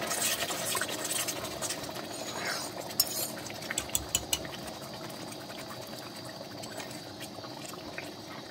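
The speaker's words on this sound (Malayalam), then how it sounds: "ഇനി ഈ ഗ്രേവിയിലേക്ക് ആവശ്യത്തിനുള്ള വെള്ളം ചേർത്ത് കൊടുക്കാം" Hot water is poured into a pan of North Indian fish curry gravy. It makes a quiet, continuous splashing and gurgling with a few small clinks partway through. No voices are heard.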